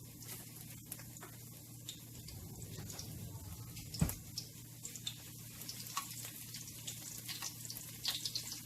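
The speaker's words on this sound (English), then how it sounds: "Just going to have it just saute there for a bit in the oil till you can smell that smell." Chopped onions and garlic sizzle in oil in a pan, giving a soft, steady crackling patter throughout with scattered small pops and one brief louder knock.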